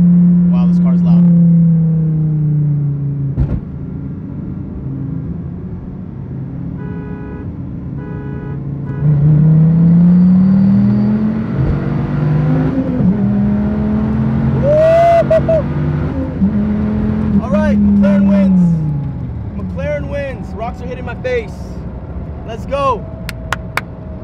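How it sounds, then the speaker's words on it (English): Loud engine of a Dodge Viper ACR or McLaren 570S revving hard through gear changes in a drag race, rising and dropping pitch in repeated pulls, with a person talking over it. "Wow, this car's loud."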